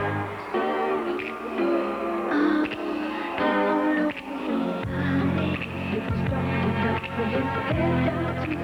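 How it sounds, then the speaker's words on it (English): Billy Jack Haynes's new entrance theme plays loudly and continuously through an arena at a Pacific Northwest wrestling event, a steady instrumental track with thick harmonic layers and no clear voices. "What you're hearing is the new theme song for Billy Jack Haynes."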